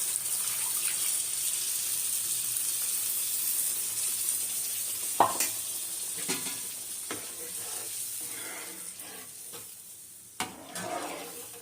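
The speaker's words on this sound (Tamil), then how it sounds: "அந்த புளியை வந்து இதில் ஊற்றிடுவேன்" Tamarind water pours into a hot pan of fish curry, its steady sizzle broken by a few sharp clinks and splashes as it settles and bubbles.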